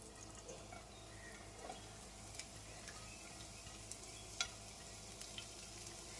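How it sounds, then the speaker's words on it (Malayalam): Chopped vegetables sizzle in hot vegetable oil in a pan for a quick breakfast dish, a soft steady frying hiss with scattered ticks and a few utensil taps, fairly faint and without talk. "ഇതിലേക്ക് നമ്മൾ അരിഞ്ഞ് വെച്ചിരിക്കുന്ന വെജിറ്റബിൾസ് ഇട്ട് കൊടുക്കാം."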